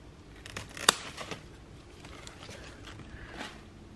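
A single crisp snip as scissors cut through a house plant stem to take a cutting for propagation, one sharp click standing out against quiet rustling and faint handling noises.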